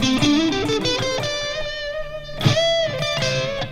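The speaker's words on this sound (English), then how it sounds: "Yeah, I got a lot of decay on that plate, that's why." Distorted electric guitar chords on a Squier Classic Vibe 60s Stratocaster ring out through a plate reverb with long decay, several strums blending into a dense sustained wash.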